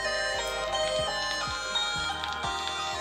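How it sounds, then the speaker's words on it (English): Music plays from the loudspeaker of an LG G7 ThinQ phone, a steady tonal track with regular rhythmic beats throughout, close and fairly loud with no talk. "let's listen to a quick clip of music real quick"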